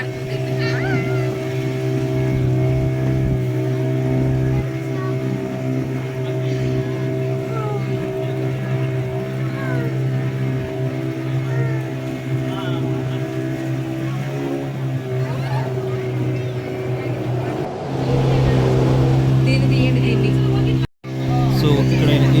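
A motorboat carries riders across the water off Yanam beach, its engine droning steadily and loudly throughout, rising into a stronger surge near the end before a brief cut-out.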